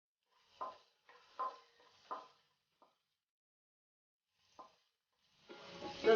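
Chopped ginger and garlic hit hot vegetable oil near the end, setting off a sudden loud sizzle. It follows a few scattered clinks and scrapes of a spoon against a pan in a quiet kitchen, with no one talking.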